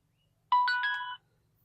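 An XTU WiFi video doorbell chimes on power-up, giving a short three-note rising electronic melody, clear and close, in an otherwise silent room.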